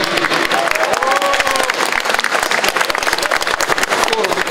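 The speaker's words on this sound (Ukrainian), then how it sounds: "Я прошу аплодисменти тим, хто проявляв ваші ідеї." Audience applause at an anti-corruption forum in Kyiv: dense, loud clapping rolls steadily throughout, with crowd voices mingled into the sustained ovation.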